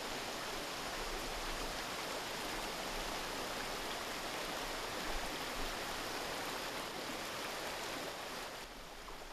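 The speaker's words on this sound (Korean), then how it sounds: "숲 어디서나 들을 수 있는 경쾌한 계곡 물소리." Steady, rushing flow of a mountain valley stream in forest over 1000 m up on Gombaeryeong, Seoraksan–Jeombongsan, a continuous broadband wash of water that stays even throughout with no voices.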